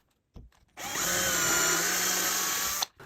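A power drill drives a screw into an MDF cube joint with a single close, loud whirring burst of about two seconds, after a few soft handling knocks.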